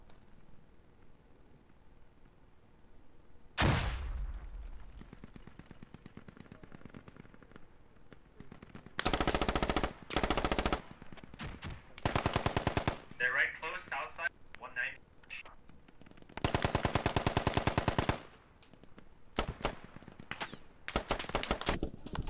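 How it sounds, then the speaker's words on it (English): Repeated bursts of automatic gunfire in the video game Squad during a fight over a mosque, some loud and close, others shorter and sharper, with players talking between and over the shots. "He's shooting at me."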